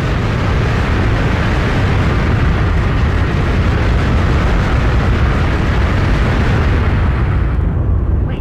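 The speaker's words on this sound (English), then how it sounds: "That explosion was pretty damn flashy, not gonna lie." A big, flashy explosion in the Star Wars: Shadows of the Empire video game, a loud sustained roaring blast that fills the whole stretch before trailing off abruptly at the end.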